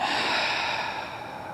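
A long, soft breath out during a yin yoga exhale, a smooth airy rush close to the microphone that slowly fades, with no talking.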